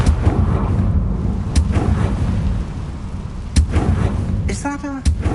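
Confringo fire spell blasting in the Hogwarts Legacy video game: sharp explosive bursts over a dense, roaring game soundscape, with a brief rising magical chime near the end.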